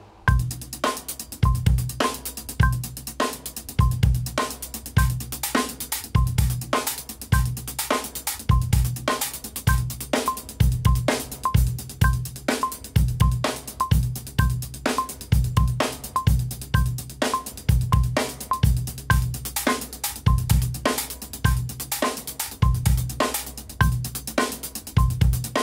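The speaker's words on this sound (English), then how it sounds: "Within that groove, I'm just going to play a simple bass drum pattern for now." A drum groove with a simple bass drum pattern played in quintuplets under a steady, bright cowbell-like click, loud and close with dense repeating hits throughout.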